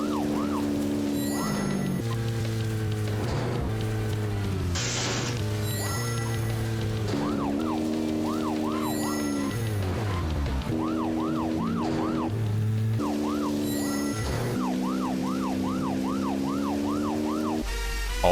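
Police car siren from the video game Deadly Premonition, wailing in repeated rising and falling sweeps over layered game music and engine tones, loud and continuous throughout.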